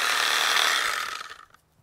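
A small saw bites quickly through fruit tree limbs in one short, loud, rasping cut that fades at the end, with no voices.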